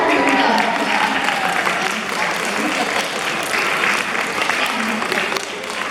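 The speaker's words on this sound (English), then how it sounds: "Let's give him a round of applause." Loud audience applause at a seal show at a sea life aquarium, dense clapping from a crowd that holds steady and eases slightly near the end, with some voices mixed in.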